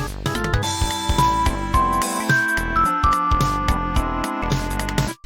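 Synthesized General MIDI song played through the Windows Roland sound set, with bright tonal melody lines over steady bass and percussion, continuous and fairly loud before stopping abruptly near the end.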